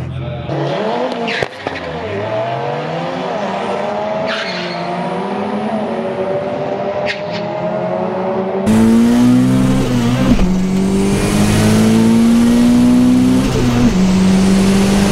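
A turbocharged Toyota KE20 Corolla with a 4A-GE engine is driven hard, its engine revving loud and close through rising pulls. Tires squeal, and the engine note jumps to a louder, steadier roar partway through.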